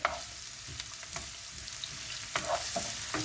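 Onions sizzle and crackle in hot oil, with occasional sharp scrapes and taps of a spoon stirring the pan.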